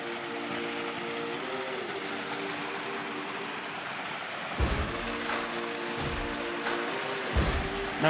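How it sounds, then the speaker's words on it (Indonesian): A waterfall in a lush area full of rare ornamental taro plants pours with a steady, broad rushing roar, overlaid by a low continuous hum and a couple of dull thumps near the end. "Ini ada air terjun teman-teman ya."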